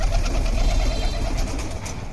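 Black-necked female pigeon of an old local line, cooing softly in a steady low murmur against a busy, continuous background hum.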